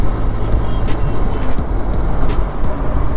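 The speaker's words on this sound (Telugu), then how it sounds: "సో ఎగ్జాస్ట్ సౌండ్ మాత్రం మంచి ఫీల్ వస్తుంది మనం అలా రివ్యూ చేసుకుంటూ వెళ్తుంటే" Benelli TRK 502 motorcycle (BS4, 2021) exhaust droning steadily while riding on a road, a continuous loud engine rumble with wind noise and no pauses.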